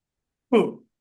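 A single short, close cough, abrupt and slightly rough, alone in silence.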